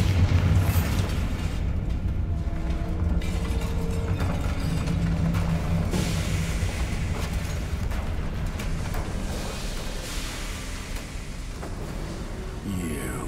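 Bombarda spell explosion in a video game, a loud sustained rumbling blast that slowly fades, with low booms and debris-like crackle.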